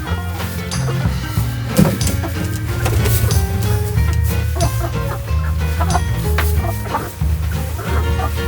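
Dense, continuous clucking from many hens in a coop, loud and close, with overlapping calls and scratchy rustling throughout.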